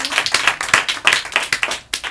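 An audience at a live stage show in Brooklyn, New York claps steadily, a dense patter of many hands close by, with no voices over it.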